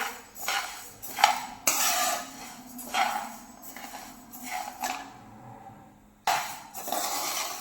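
Rice flour roasted in a pan, metal spatula scraping and stirring against the pan in repeated bursts with short pauses, close and clear.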